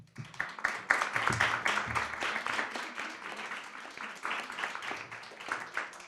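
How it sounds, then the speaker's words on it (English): Audience clapping for a panel at a public event, a modest crowd applauding in a brisk, uneven patter that swells, dips briefly and picks up again over several seconds. "We'll give a round of applause."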